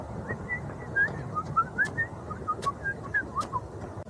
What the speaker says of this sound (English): I mean, you could whistle if you want.